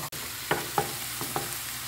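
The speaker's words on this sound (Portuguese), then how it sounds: "Deixa essa cebola fritar um pouquinho." Onion and sausage frying in a pan give a steady broadband sizzle, with a few soft stirring scrapes and taps spaced through the short stretch, no voices.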